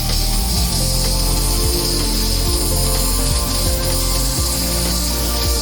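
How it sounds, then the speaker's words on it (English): An airbrush sprays ink with a steady, loud hiss, while a low pulsing throb repeats underneath at a regular rhythm. "Then spray a thin layer of ink first."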